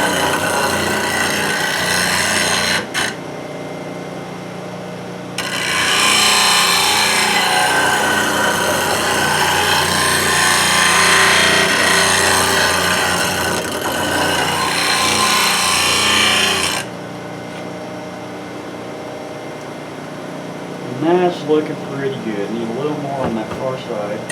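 A grinder on a PSI sharpening system grinds a lathe turning tool with a loud, steady abrasive whir that swells for several seconds and then falls back. A voice talks over it near the end.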